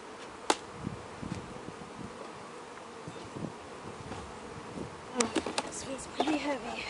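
Honey bees in an opened hive buzz continuously around the listener, with louder buzzing passes coming close, amid handling noises and brief voice sounds.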